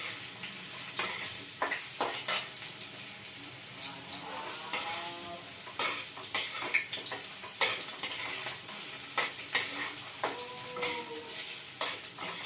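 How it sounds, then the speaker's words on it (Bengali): Curry ingredients lightly frying in a pan, a steady sizzle with a spoon repeatedly stirring and scraping against the pan in irregular clicks, close up with no voices. "এটা বেশি ভাজা করবো না, অল্প একটু ভাজা করে আমি তুলে নেবো"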